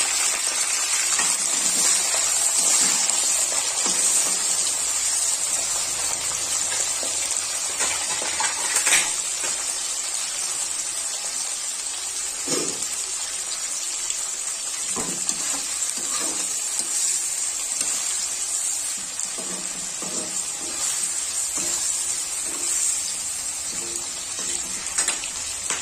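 Cloves, cardamom and onion frying in a pan for a chicken curry, a constant bright sizzle with scattered soft clinks and stirring sounds.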